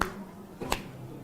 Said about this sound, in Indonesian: Bisa antum kemudian tepuk begini.